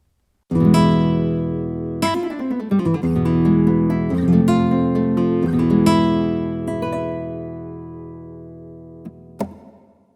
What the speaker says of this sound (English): this is the sound of the concert classical guitar